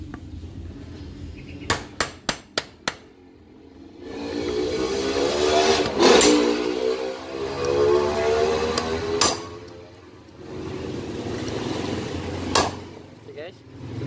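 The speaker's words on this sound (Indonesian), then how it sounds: "Setelah itu kita totok ya dengan palu di bagian atasnya. Tapi menotoknya perlahan aja ya," Five quick, sharp hammer taps on the top of a motorcycle front fork seal, driving it into the fork tube during a leaking-seal repair, followed by someone speaking over a low background hum.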